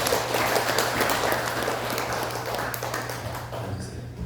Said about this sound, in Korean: 환영하고 축복하는 박수